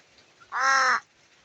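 A single crow gives one clear, harsh caw in a backyard, standing alone against quiet surroundings.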